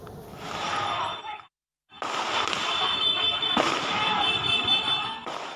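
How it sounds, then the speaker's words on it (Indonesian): Loud crackling bursts of firecrackers going off during a street firecracker fight between teenage groups in Tangerang, Banten, Indonesia, with a brief silent gap, then continuous sharp pops and bangs, fairly close. "Dua kelompok remaja di Kabupaten Tangerang, Banten perang petasan hingga mengganggu warga."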